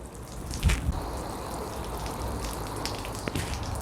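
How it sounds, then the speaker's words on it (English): A garden hose sprays water onto a jacket sleeve, making a steady hiss and patter with a few louder splashes and thumps near the start, fairly quiet and close. "I'm going to get the hose pipe going"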